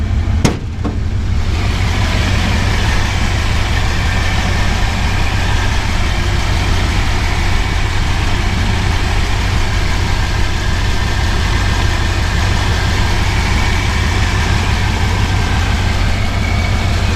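A 1964 Dodge Custom 880 with a new Borla exhaust idles steadily and loudly nearby, a deep, continuous rumbling burble with no talking, after a brief click at the start.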